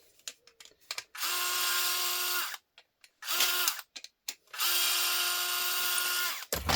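A power drill backs screws out of a wooden board in two long whirring bursts, with short clicks and handling noises between them, close and loud.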